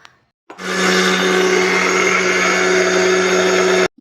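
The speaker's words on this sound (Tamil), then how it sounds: "இன்னும் ஒரு தடவை நான் போட்டு அரைக்க போகிறேன் அரைச்சேன்னா நல்லா நைஸாக வந்துடும்" A mixer grinder blends carrots into juice, starting abruptly after a quiet moment and running as a loud, steady, high whirring motor for about three seconds before cutting off sharply.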